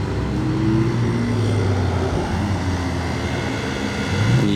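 Hypercar engine roaring at close range on a Monaco street, a steady loud drone with a rising pitch sweep as the car accelerates past, ending in a brief higher surge.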